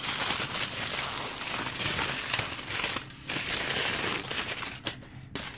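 Aluminium foil being crumpled by hand into a Japanese foil ball, a steady dense crinkling and crackling that runs almost without pause, close and fairly loud, with two brief dips where the rustling drops away.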